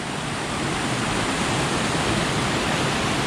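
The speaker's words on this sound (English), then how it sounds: "Nice waterfall up there." A waterfall roars as a steady, dense rush of falling water on a tramping route to Hawdon Hut, loud and unbroken with no voices over it.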